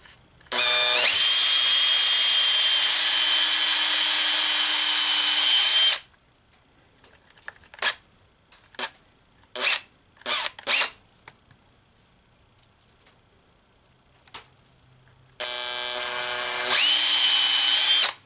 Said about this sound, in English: I just get me a small drill bit, measure my approximate depth